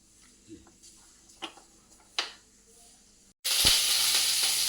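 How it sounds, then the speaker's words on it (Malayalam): Quiet crackles and a few sharp pops, then a sudden loud, steady sizzle as chili splutters in hot coconut oil in a pan, with no one speaking. "കുറച്ച് വെളിച്ചെണ്ണ ഒഴിച്ച് ഇത് പൊട്ടട്ടെ"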